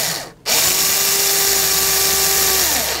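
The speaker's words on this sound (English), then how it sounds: "I use a drill." A power drill bores into a base plate, starting after a short silent gap and then whining loud and steady at constant speed for over two seconds before easing off at the end.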